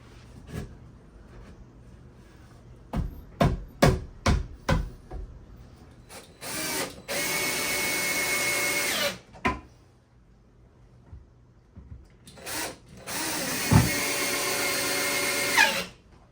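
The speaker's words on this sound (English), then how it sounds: "I'm using pocket holes to give us some additional strength as well as get it started." A power drill bores pocket holes in wood for a DIY loft bed, two sustained whirring runs set between sharp knocks and handling clatter of the boards, with no talking.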